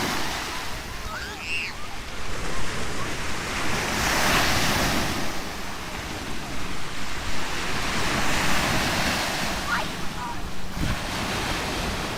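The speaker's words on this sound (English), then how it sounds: "Wow, they are hitting, decent sized waves." Ocean waves roll in and break on Miami Beach, a loud surging wash that swells and recedes while wind buffets the microphone and faint voices pass in the background.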